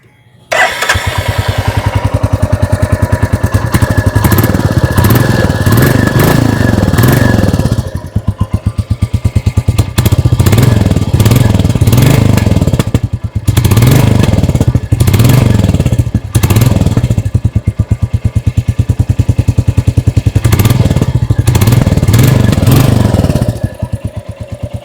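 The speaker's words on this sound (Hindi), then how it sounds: "आइए अभी सुन लेते हैं इस बाइक की एग्जॉस्ट नोट।" A 2025 Royal Enfield Classic 350 in Gun Metal Grey thumps loudly up close, its single-cylinder exhaust rumbling at idle with repeated throttle blips and revs rising and falling throughout, with no talking over it.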